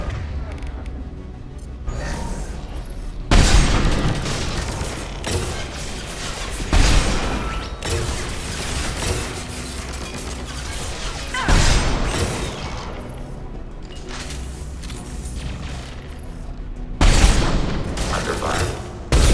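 Heavy gunfire erupts in repeated bursts in Mass Effect, loud sustained volleys separated by quieter stretches of combat ambience, with voices calling out in between.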